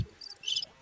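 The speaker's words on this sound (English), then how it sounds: "this is weird birds, crickets again" Cricket chirping used as a sound effect during a Mario Kart 8 Deluxe community stream: two faint, high, brief trills in quick succession over a near-silent background.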